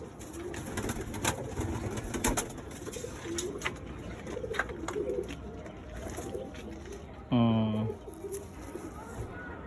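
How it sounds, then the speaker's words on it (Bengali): Madras pigeons coo softly in a loft against a busy background of chatter and rustling, with one louder close call near the end. "এখানে মাদি পায়রা আছে"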